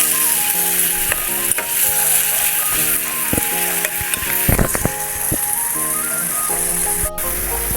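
Onion, garlic and ginger paste fries in a pan with a loud, close, continuous sizzle, broken by clattering stirs and scrapes of a utensil.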